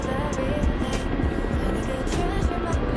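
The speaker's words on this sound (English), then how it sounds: "Oh, there's an enemy helicopter taking off right now." An enemy Mi-8 helicopter lifts off in a combat video game: a steady, continuous rotor and engine roar that fills the moment at close range, with no one talking over it.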